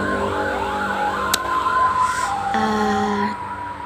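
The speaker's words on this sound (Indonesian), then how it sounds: "Abaikan bunyi sirene ya." A wailing emergency siren sweeps up and down nearby, then shifts to a steady held tone before cutting off.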